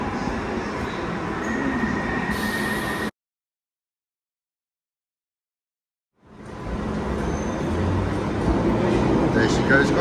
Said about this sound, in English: I'll get a footage of the train leaving